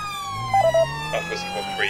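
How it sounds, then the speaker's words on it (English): Police car sirens in the GTA 5 video game with a patrol car mod, wailing electronic tones joined by short yelp bursts, loud and close, with a voice briefly audible underneath. "Now let's put the sirens on."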